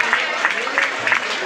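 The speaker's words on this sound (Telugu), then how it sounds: "పరిశుద్ధాత్మ నామమున చప్పట్లు కొట్టాలి బిగ్గరగా" A church audience at a Christmas celebration claps in a steady, regular rhythm, each burst of hands evenly spaced over a murmuring background.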